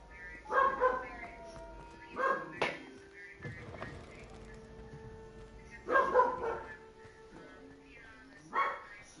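Dog barking in a home during gaming, several loud bursts of barks and yips in clusters, spaced a few seconds apart, with a person talking quietly in between.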